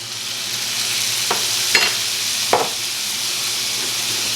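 Small broken-up pieces dumped into a hot pan for a pantry hash, setting off a loud, steady sizzle with a few sharp clatters and scrapes as they land and settle.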